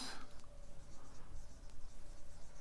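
Chalk or marker writing on a classroom board during a physics lecture on heat and thermometry, a soft, close, steady scratching without talk.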